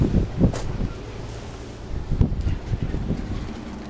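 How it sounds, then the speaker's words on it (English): Strong wind under a covered section of a plant shop in Ontario, California buffets the microphone in loud, uneven gusts, a roaring rumble with brief rustling bursts, no voices. "This place is crazy with the wind."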